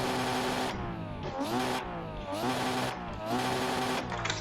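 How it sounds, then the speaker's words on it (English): In a snowy racing game, a drift car's engine slams off the rev limiter over and over, a loud, close, stuttering buzz that rises, chops and climbs again in quick, rhythmic bursts. "Don't know about the rev limiter on this, the sound of it."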